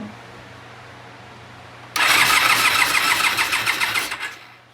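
A Norton motorcycle engine with the choke on cranks and tries to catch: quiet idle hum, then a sudden loud burst of rapid mechanical chugging for about two seconds that fades back down, close by with no talk.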